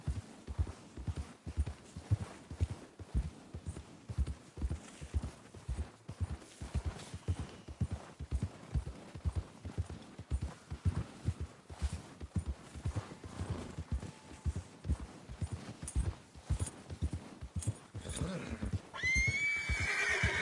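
A horse in Red Dead Redemption 2 clip-clops at a steady walking rhythm, hoofbeats close and even throughout, ending with a loud neigh.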